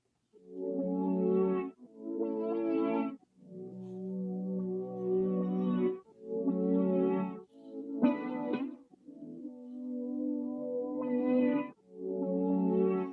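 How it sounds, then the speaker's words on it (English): Reversed chords on a stringed instrument, each swelling up from silence and cutting off abruptly, repeating in a rhythmic series with a warbling effect. "those chords reversed sound like this."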